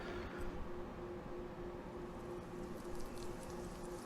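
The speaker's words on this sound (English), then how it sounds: "It is raining." Soft, steady rain falls outside in the video game The Lion's Song, a faint continuous patter with a low hum underneath and no one talking.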